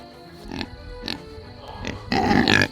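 Pigs grunt in short bursts spaced across a couple of seconds, ending in a louder snuffling flurry close by.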